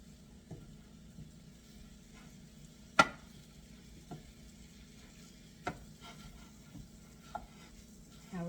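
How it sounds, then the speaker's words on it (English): A spoon stirring ground beef and spinach for Egyptian eggah in a pan over a quiet, steady sizzle, with a few sharp scrapes and clacks against the pan, close and soft, with no talking. "I'm going to stir all this around"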